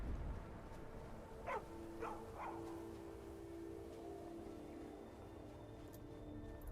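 A dog barks three times in quick succession in the modded fantasy game Skyrim, fairly near, over a steady ambient game hum.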